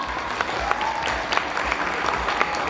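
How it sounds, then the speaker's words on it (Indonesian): Audience applause at a school competition and cultural event, steady clapping from a crowd, moderately close and filling the whole stretch. "Tepuk tangan penonton"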